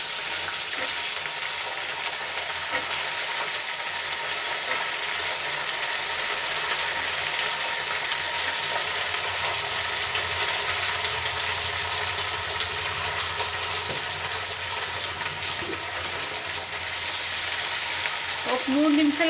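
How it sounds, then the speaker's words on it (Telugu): Eggplant pieces fry in a kadai of hot oil with onion and curry leaves, a loud, steady sizzle that runs unbroken and close throughout, with faint stirring scrapes near the end. "ఒక కడాయి పెట్టుకొని కొంచెం ఆయిల్ వేసుకొని ఆనియన్, కరివేపాకు వేసుకున్నాం. ఇప్పుడు వంకాయ వేసుకున్నాం."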